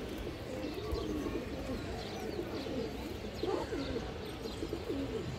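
Pigeons of an old bloodline, mixed breeds for sale, coo steadily in a low rolling murmur under a dense, noisy background, fairly faint.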